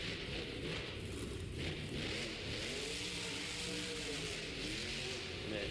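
Monster truck engine revving across a stadium floor at a Monster Jam event, a steady loud mechanical roar with rising and falling revs over constant crowd and arena noise.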